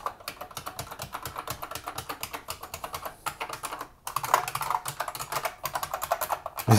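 Rapid, steady typing on a Unicomp Mini M buckling-spring keyboard, a compact Model M SSK, with loud close clacks in a continuous rhythm, one brief pause midway, and no voices.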